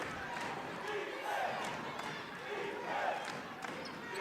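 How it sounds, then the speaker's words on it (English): Benedict College basketball crowd noise in a gym, a steady dense roar of cheering and chatter with faint squeaks and bounces, moderately distant and continuous, with a voice talking through it. "You hear the Benedict crowd getting into it."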